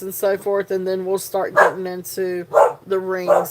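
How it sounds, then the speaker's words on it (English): Dogs bark in a few sharp bursts in the background while a person keeps talking during a live jewelry sale broadcast, the barks rising between and over the speech. "I apologize for the dogs."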